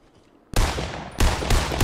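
Fortnite gunfire aimed at a care package, a brief quiet lead-in and then loud, close, rapid bursts of automatic shots in quick succession.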